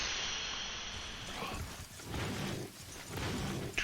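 Steady rain falling in the Monster Hunter video game, a dense continuous hiss with a soft whooshing swell partway through, moderately loud and with no talking over it.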